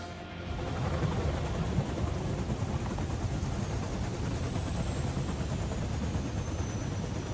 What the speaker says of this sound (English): Why not shoot the helicopter?